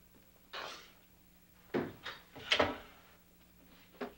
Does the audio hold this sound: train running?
no